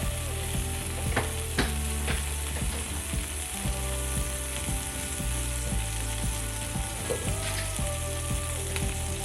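Minced garlic frying in a pan, a steady close sizzle broken by repeated scraping and clinking strokes as it is stirred, with no voices over it.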